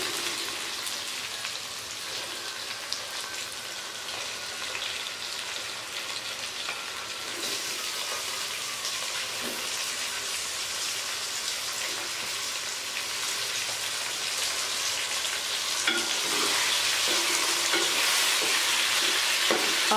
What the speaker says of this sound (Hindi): अब हम चिकन को थोड़ा सा भून लेंगे।